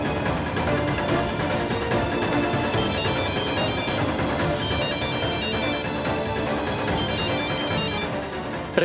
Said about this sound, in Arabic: ردي على التليفون.